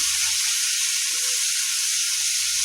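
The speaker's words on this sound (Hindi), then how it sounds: "आब एकरा तेज आंच पर 5 मिनट भूज लै छियै जाबत तक प्याज गुलाबी नहीं भऽ जाइ छै" Onions frying in a pan over high heat for a spicy potato and bean curry: a loud, continuous close-up sizzle with a steady hiss, no talking.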